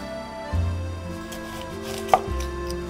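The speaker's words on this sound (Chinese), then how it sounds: "准备洋葱一颗，把头尾把它去掉，" A knife trims the ends off an onion on a cutting board, heard as a couple of soft close thuds with one sharper tap, over faint background music and no talk.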